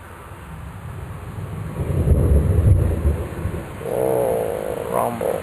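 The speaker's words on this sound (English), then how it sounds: "just missed a big thunderbolt" Low thunder rumbles through a summer thunderstorm, swelling and fading over several seconds against steady rain and wind noise, with a faint croaking call near the end.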